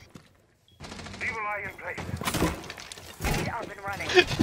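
Gunfire in the tactical shooter Rainbow Six Siege, a rapid burst with cracking, shattering impacts mixed with players talking over it.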